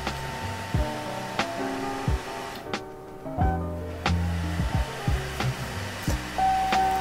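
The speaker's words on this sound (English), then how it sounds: "Just the CPU cooler is running like crazy." A CPU cooler fan in a Hackintosh computer, running loud and steady, with a whirring motor drone and shifting whine tones heard up close throughout.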